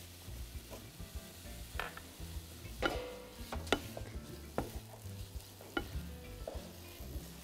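Chicken pieces fry in oil in a pan, a steady close sizzle broken by repeated sharp clacks and scrapes of stirring, with no one talking.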